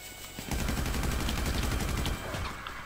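Shotgun gunfire in GTA 5 Online: a dense, continuous burst of rapid game gunshots lasting about two seconds, loud and sustained, with no talk over it.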